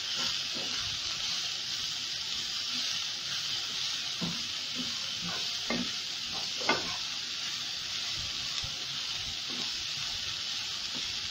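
Steady sizzling of chopped leek greens frying in a pan, a constant bright hiss with occasional soft clinks and stirring scrapes.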